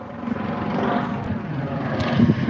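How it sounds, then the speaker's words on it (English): A private jet flying overhead gives a loud, continuous broadband roar that builds slightly toward the end, with wind buffeting mixed in. "see the private jet flying over you"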